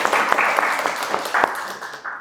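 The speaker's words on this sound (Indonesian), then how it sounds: "Tepuk tangan dong untuk mereka." A university class applauds fellow students after their presentation, with brief, moderately loud clapping and a few sharp individual claps standing out, fading near the end.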